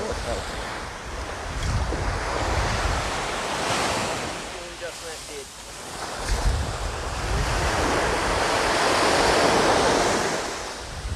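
Ocean surf rolls and breaks continuously on a beach during a sea turtle release, with steady wind buffeting the microphone; the wash swells and recedes across the clip, loud and close.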